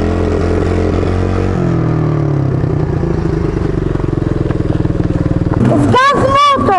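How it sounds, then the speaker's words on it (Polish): An 80cc MRF motorcycle engine runs steadily nearby with a buzzing drone and rev changes, then clatters down and cuts out near the end as fuel runs dry, with people talking over it. "Zgas motor!"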